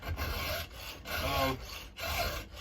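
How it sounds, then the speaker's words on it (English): Three strokes of a hand file rasping across an old spare loop of chainsaw chain during sharpening practice, each pass a gritty scrape of about half a second to a second, close up with no talk. "You got an extra loop of chain laying around or something that's about gone, grab it, practice filing."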